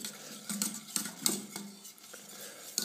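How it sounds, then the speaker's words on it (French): A chocolate mixture is beaten vigorously in a bowl, the utensil clicking against the sides in quick irregular strokes. The sound is close and fairly quiet, with no speech. "Si c'est un peu grumeleux, il faut battre avec vigueur"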